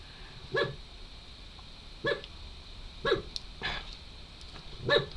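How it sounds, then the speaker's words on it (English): A dog barks five times in short single barks spaced about a second apart, moderately distant and fairly faint over quiet background hiss. "What sort of bark even is that?"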